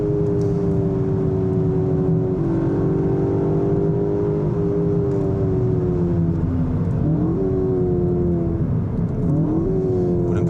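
Cupra city crossover engine revving on a Formula 1 circuit, a loud sustained drone that climbs in pitch and drops back with each gear change, rising again in repeated pulls, with no talking.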